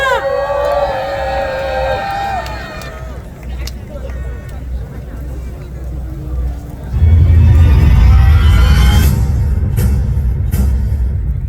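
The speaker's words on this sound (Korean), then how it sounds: "큰 박수 부탁드립니다." A rally crowd at a candlelight protest greets the Hyundai Motor union's Namyang research-center choir. Voices first sound over a rumbling crowd, then loud sustained cheering and roaring swells up in the second half.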